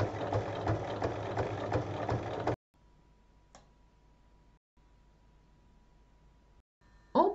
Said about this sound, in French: Et on va piquer autour à 3 mm du bord ainsi qu'au milieu